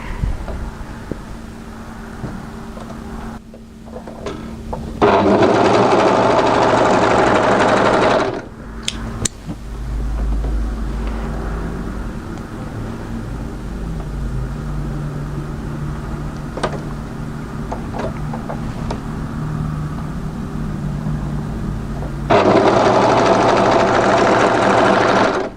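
A sewing machine stitches the short underarm seam of a sleeveless cardigan band, a loud steady mechanical whir in several long runs with brief pauses between them, close to the listener.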